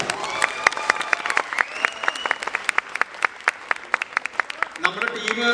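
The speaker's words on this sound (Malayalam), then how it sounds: "അപ്പോൾ അവർക്കൊരു നല്ല കയ്യടി കൊടുക്കാം." An audience at an achievers' meet breaks into applause, a dense run of sharp, quick hand claps that holds for several seconds before thinning, with a voice and murmuring rising at the end.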